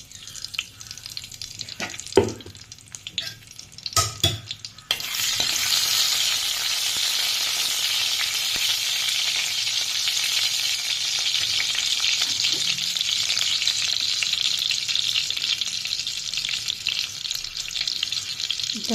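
Garlic hits hot oil in a kadhai for tempering after a few clattering knocks, then a loud, steady sizzle that holds on without pause.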